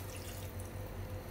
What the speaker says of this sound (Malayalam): നമ്മുടെ മിക്സി ജാർ കഴുകി ആ വെള്ളം അങ്ങോട്ട് ഒഴിച്ചു കൊടുക്കാം